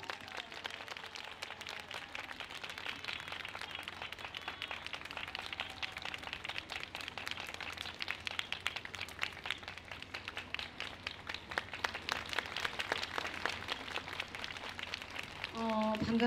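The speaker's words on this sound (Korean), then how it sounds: "힘찬 박수로 모시도록 하겠습니다." Crowd applause at a peace rally in Seomyeon, a steady wash of clapping from many hands that holds for the whole stretch and swells toward the end.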